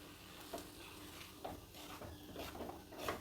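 Poha (flattened rice) mixed with gojju is stirred while heating in a pan, with a soft steady sizzle and repeated scraping strokes of the spoon at an unhurried rhythm, close and fairly quiet, with no talking.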